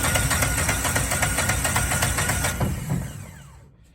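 Small engine on a Miller Bobcat 225 welder generator with a replacement UTV engine cranking rapidly as it tries to start, a fast rhythmic chugging that fails to catch and winds down to quiet, loud and close.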